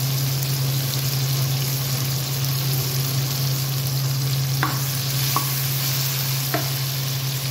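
Onion and garlic sautéing in a pan for Filipino adobo, a steady even sizzle with a few faint clicks of a spatula stirring, no voices.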